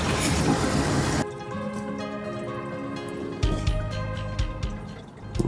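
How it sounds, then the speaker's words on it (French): Water from a garden hose running and trickling into a grey water tank, a steady close pour with dripping and splashing that shifts midway, no talk over it. "J'entends que ça coule dans la cuve."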